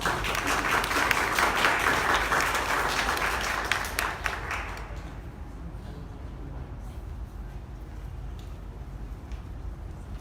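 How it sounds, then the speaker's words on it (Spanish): An audience at an evening lecture on rock art dating applauds in a dense, steady wash of clapping for several seconds, then it fades away into quiet room murmur. "Así que les pido un aplauso."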